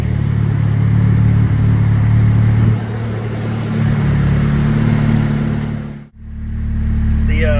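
A turbocharged Honda Del Sol engine runs on a dyno with a loud, steady droning hum, its pitch shifting partway through before the engine is abruptly cut and then briefly picks back up.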